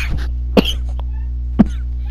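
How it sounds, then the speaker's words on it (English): Two short, sharp coughs, about a second apart, close to the microphone over a steady low electrical hum. "Sorry about that coughing."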